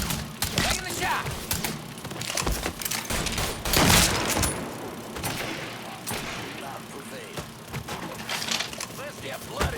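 Gunfire cracks out in Mafia III, with scattered sharp shots and a loud burst midway, mixed with mechanical clatter and game noise.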